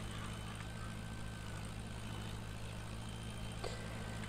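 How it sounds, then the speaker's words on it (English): A tractor engine idles at a steady, low, droning rumble, quiet and unchanging throughout, with no voices over it. "here's my other tractor that I used to make the field"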